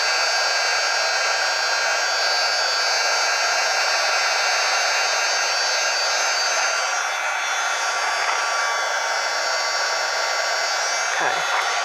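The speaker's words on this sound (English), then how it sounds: "Okay, I've got the heat gun heated up." A heat gun blows steadily over embossing powder on vellum paper, a loud, unbroken hair-dryer-like rush of air lasting throughout, with a slight shift in tone near the end.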